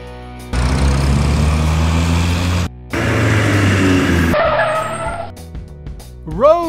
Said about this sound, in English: Food truck.